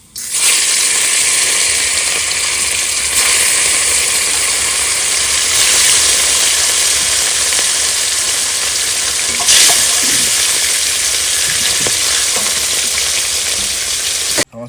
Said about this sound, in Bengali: এবার দাঁত মাছগুলো ভেজে নেবো